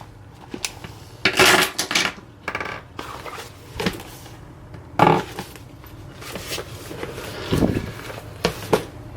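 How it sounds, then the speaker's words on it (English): Makeup concealers and pencils are grabbed from a bag compartment, giving scattered clicks, clacks and rattles of small plastic items in irregular bursts, close and fairly loud with quiet gaps between. "these are mostly like concealers and pencils. So I'll just grab them all."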